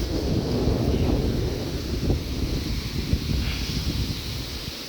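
Strong wind blows steadily outdoors, roaring low and loud across the microphone with gusty surges and buffeting throughout, no voices.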